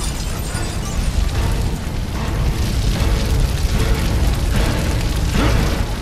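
Fuel tanks exploding aboard a ship in Gears of War 3, a sustained roaring rumble of blasts and burning debris, loud and continuous with no voices.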